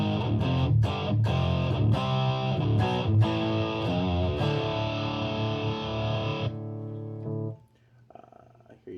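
Electric guitar through the distortion of a Neural DSP Archetype Abasi amp plugin, thick sustained distorted chords with sharp pick attacks ringing out, then fading to quiet with a faint voice at the end.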